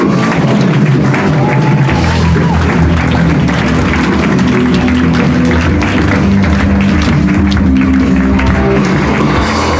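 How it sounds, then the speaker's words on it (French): Loud, sustained applause from a large stand-up comedy open-mic crowd, dense clapping mixed with cheering and crowd noise, steady throughout. "Je vous demande de faire un maximum de bruit pour Alex Nguyen, s'il vous plaît."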